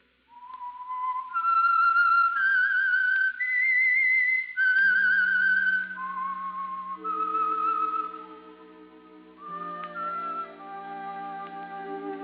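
A clear, melodic whistled theme tune from a 1945 radio drama, with rising and falling notes, joined partway through by low sustained orchestral tones.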